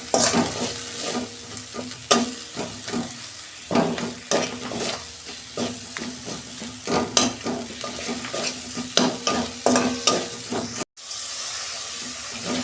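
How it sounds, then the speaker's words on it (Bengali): Spice masala of green chili paste, chili powder, coriander and cumin being stir-fried in a pan for an aubergine, potato and lentil-dumpling curry, with steady sizzling and repeated scraping stirs, loud and close, with a brief dropout near the end. "মশলা কষানো হয়ে গেছে"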